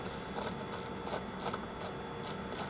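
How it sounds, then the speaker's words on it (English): A ratchet with a 10mm socket loosens the bolt holding the intake to the throttle body of a 2022-2026 Cadillac CT5-V Blackwing, clicking in quick, steady bursts of several pawl clicks, close up and with no talking. "Then we're going to switch over to our 10mm and remove the bolt holding the intake to the body."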